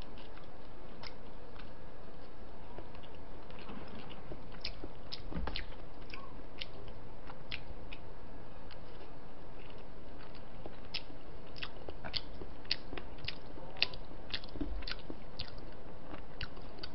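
Close, wet chewing and biting of braised chicken jjimdak with noodles, a steady run of soft crunches and smacks repeating alone with no talk.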